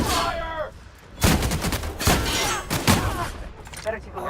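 A close volley of gunfire breaks out in three or four loud, heavy bursts about a second apart, with a shouted voice at the start.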